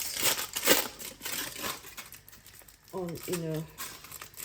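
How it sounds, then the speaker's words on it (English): Plastic wrap crinkles and tears in quick bursts, close up, as homemade vital wheat gluten, chickpea and sunflower seed sausages are unwrapped. A voice briefly cuts in near the end. "unwrapping all the sausages"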